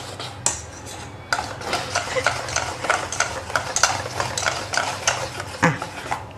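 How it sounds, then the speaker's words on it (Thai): A spoon whisks gram flour batter for dhokla in a bowl, giving a steady, rapid run of close scraping clicks and clinks against the sides, with no talking. "คนได้เมื่อยเหมือนกันนะเนี่ย"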